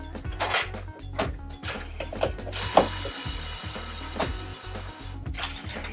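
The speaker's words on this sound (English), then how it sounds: "See our Epson printer starting up as well." Epson printer starting up, run from a small portable battery with an AC outlet: a series of mechanical clunks, whirs and ratcheting clicks in an irregular rhythm, fairly close and moderately loud.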